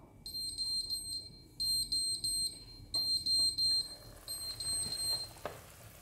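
An oven timer rings after apples finish baking. It gives repeated bursts of high electronic beeping in short groups with brief pauses between them, fairly quiet, with no talking.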